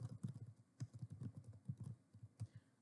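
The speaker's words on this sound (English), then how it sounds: "open up your browser and type in what you would like to search for" Quick bursts of keystrokes on a computer keyboard while searching for an image online, soft close clicks in an irregular run of about two dozen taps.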